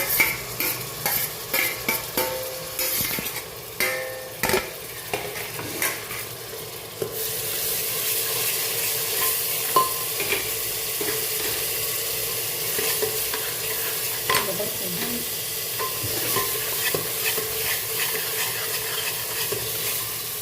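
Tomatoes go into a frying pan for an aloo pakora sabzi and get stirred, with scraping spoon strokes and clinks over a steady close sizzle that stays loud after the first few seconds.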